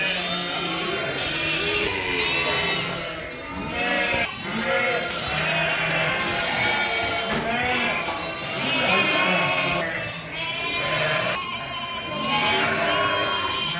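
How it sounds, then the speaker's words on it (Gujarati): A flock of sheep and goats arrives in a village, bleating continuously and loudly, many overlapping calls close by. "ચાલો જો ઘેટા બકરા આવી ગયા"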